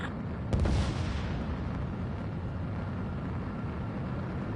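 A missile fires in Ace Combat 7, a sharp whoosh and boom followed by a sustained low rumbling roar of jet and engine noise lasting several seconds.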